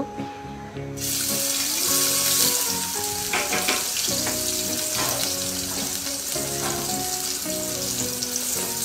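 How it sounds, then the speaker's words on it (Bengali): After a brief pause, a loud, steady sizzle of chopped onions frying in hot oil in a wok starts and continues throughout, with music playing underneath. "প্রথমে আমি কড়াইতে তেল দিচ্ছি, এরপরে পেঁয়াজ কুচিগুলো দিয়ে দিব"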